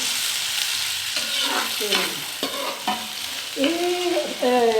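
Onions fry and sizzle in a pan for an aloo, carrot and pea sabzi, a constant hiss broken by several scraping stirs of a spoon against the pan, close and clear.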